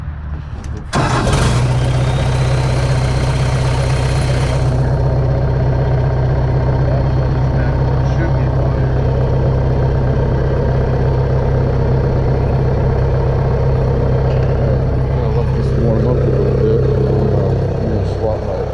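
A Vermeer machine's engine fires up with a loud burst of starting noise, then settles into a steady, rumbling idle that continues close by for the rest of the stretch.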